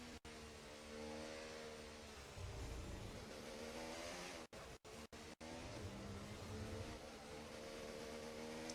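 F1 car driven in the F1 24 video game on a wet track in pouring rain, with a steady engine drone and harmonic whine rising and falling through gear changes, briefly cut by short silent dropouts.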